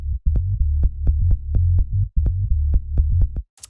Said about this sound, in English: then after that we have the bass line, which sounds like this.